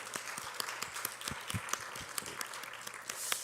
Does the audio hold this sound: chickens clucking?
no